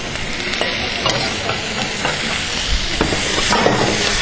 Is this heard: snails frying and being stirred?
yes